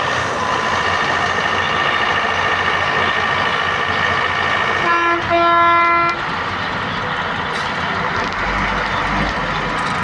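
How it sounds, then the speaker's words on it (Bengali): Roadside traffic on the Narayanganj six-lane road: a constant loud rumble of engines and tyres, cut by one sustained vehicle horn blast lasting about a second midway, with lower engine drone near the end. "বর্তমানে নারায়ণগঞ্জ 6 লাইনের রাস্তা পরিস্থিতি।"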